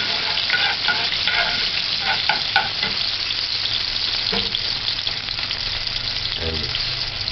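Onion stir-fries in a pan for stewed cabbage, a loud, continuous crackling sizzle with a few brief utensil scrapes and faint murmurs in the background.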